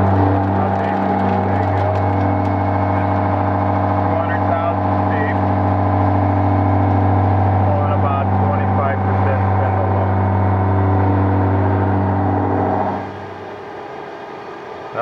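A milling machine cuts dry with Sandvik cutters at 831 RPM and 35 inches a minute, making a loud, steady humming drone that holds evenly for most of the stretch, then drops to a quieter level near the end.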